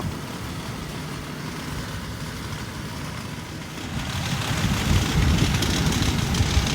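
A tractor engine runs steadily in a field during grass harvest for winter cattle feed, a continuous broadband rumble that grows louder and nearer after a few seconds, with no voices.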